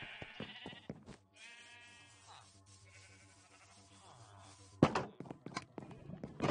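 Sheep bleat several times at a moderate distance, with wavering calls mixed with scattered thumps and shuffling on a quiet farm.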